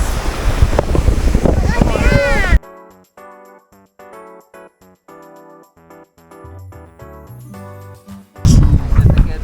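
Wind and surf by the sea in the Cayman Islands roar up close as blustery, rushing noise at the start and end, with voices talking over it and music in between.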